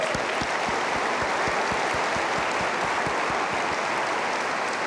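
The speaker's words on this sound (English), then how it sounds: "So I want to give you all a great round of applause." Large keynote audience at Cisco Live 2018 applauding in a dense, steady wash of clapping with rhythmic low thumps underneath, sustained loud throughout.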